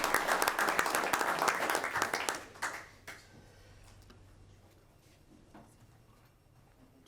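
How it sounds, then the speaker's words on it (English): An audience at a Board of Selectmen meeting applauds Bob Curry, a dense burst of clapping for about two and a half seconds that quickly fades into quiet room tone. "I think we owe Bob Curry a round of applause."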